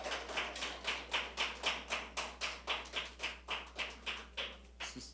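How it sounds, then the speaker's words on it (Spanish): Rhythmic applause from a church congregation, a steady run of about fifteen even claps that fades slightly toward the end, with no voices over it. "Aplausos, por favor."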